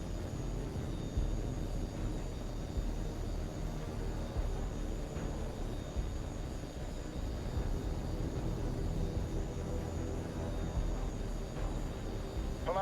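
Jet fighter engines drone steadily in Tom Clancy's H.A.W.X 2, a loud continuous rumble and roar that holds at an even level throughout with no pauses.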